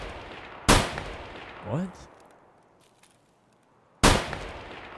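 Two sharp, loud gunshots crack about three seconds apart in an Escape from Tarkov match, each with a short echoing tail, and a brief spoken word falls between them.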